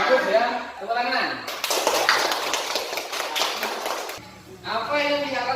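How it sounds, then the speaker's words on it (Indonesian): Students in a classroom clap together in a lively round of applause lasting a few seconds, framed by a teacher speaking just before and after. "Bagus ya. Tepuk tangan."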